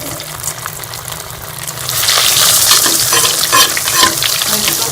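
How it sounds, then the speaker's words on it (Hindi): Potato and egg cutlets coated in bread crumbs frying in hot oil, a dense steady sizzle that swells louder halfway through, close and continuous with no talking. "ऑयल जो है वो गर्म हो जाएगा और इससे कटलेट्स फ्राई कर लेंगे।"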